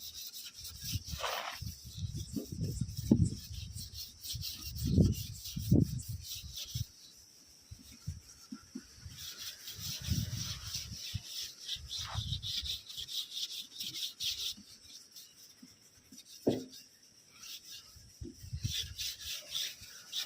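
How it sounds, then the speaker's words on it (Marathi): Soap rubbed by hand onto the glass of a car headlight during cleaning: intermittent soft scrubbing strokes in short bursts, fairly close and quiet, with pauses between them and no talk over it. "हे साबणानं त्याच्यावर घासून घ्यायचे, थोडी साबण. ठीक आहे, मस्तपैकी घासून घ्या."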